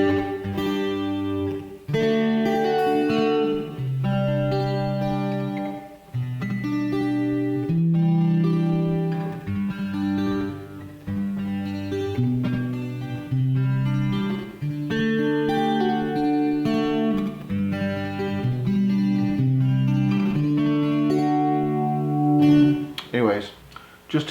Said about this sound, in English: I have a mic preamp with a little bit of chorus, a little bit of slapback, and a little bit of hall reverb